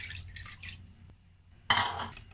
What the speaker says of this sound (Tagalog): Lalagyan ko ng tubig na malinis.